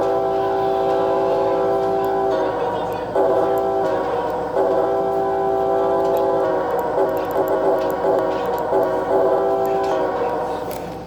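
A CREX City Rail locomotive sounds its horn in a loud, sustained chord, blown in several long blasts with brief dips between them and no talking.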